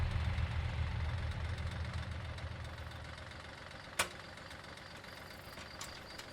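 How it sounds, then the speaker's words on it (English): A farm tractor engine idles close by with a steady low rumble, fading somewhat partway through, and a single sharp click stands out near the end. "Let me help you down from the tractor."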